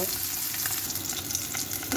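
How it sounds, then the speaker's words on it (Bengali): Pieces of catla fish fry in hot oil with a dense, crackling sizzle, close and continuous over a couple of seconds, with no voices. "মাছটা ভেজে নিচ্ছি"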